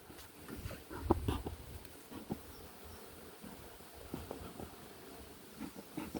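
Honey bees buzz around an open hive right after a puff of smoke, a low, steady hum with scattered louder flyby swells, fairly close and without voices.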